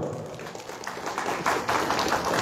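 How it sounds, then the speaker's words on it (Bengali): An audience at a blanket distribution event claps together, a dense patter of many hands that swells in loudness and holds steady, close and alone. "তাই এনাদের জন্য আরো একবার জোর করে হাততালি হবে।"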